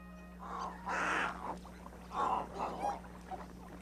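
Pink-billed ducks (güires) on a flooded savanna give several loud, harsh honking calls in irregular bursts over a steady background hum, with no talk.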